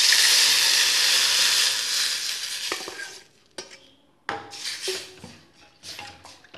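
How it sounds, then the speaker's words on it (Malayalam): Coconut milk is poured into hot ghee with fried shallots and curry leaves: a loud, bright sizzling hiss that gradually dies down, followed by a few close spoon clinks and stirring scrapes against the pan. "അപ്പോൾ ഇതിനകത്തേക്ക് നമ്മൾക്ക് ഈ തേങ്ങാപ്പാൽ ഒഴിച്ച് കൊടുക്കാം"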